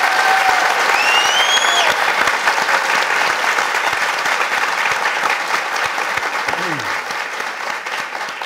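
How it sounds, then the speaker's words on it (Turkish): At the opening of a Turkish talk show, a studio audience applauds loudly and continuously. Whoops and whistles rise over the dense clapping, which thins slightly toward the end. "alkışlarla başlıyor"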